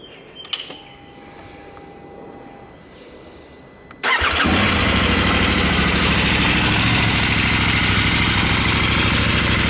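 A KTM 790 Adventure R motorcycle fitted with an SC Project exhaust, baffle in, starts up after a few quiet clicks and settles into a steady, loud, close idle rumble.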